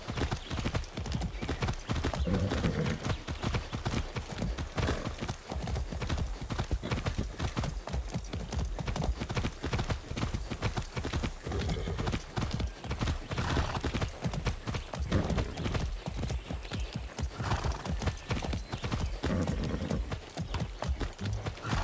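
Horse hooves clip-clop steadily and continuously at a trot in the Far Cry 6 video game, loud and close throughout, with occasional faint voice and a brief whinny beneath the rhythmic beats.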